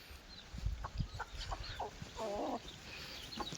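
Chickens clucking and squawking in short, scattered calls at close to moderate distance, with a faint background hiss.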